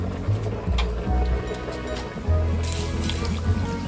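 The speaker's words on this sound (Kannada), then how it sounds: "ಇದನ್ನ ಒಂದು 2 ನಿಮಿಷ ನೀರಲ್ಲಿ ನೆನೆಸ್ಕೊಳ್ಳಿ." Water poured into a kitchen vessel to soak rice while making curd sambar, giving close splashing and dripping sounds in short bursts with brief pauses between them.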